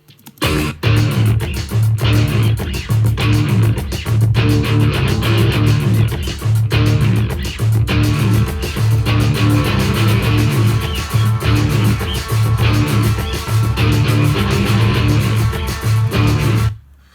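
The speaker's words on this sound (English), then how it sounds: "there's this sub synth that comes in and kind of supports that bass and that low end and the kicks" A loud dense rock passage from a track, driven by a pulsing deep sub synth reinforcing the bass line and steady kick drums, with crashing cymbals and layered instruments sustained throughout.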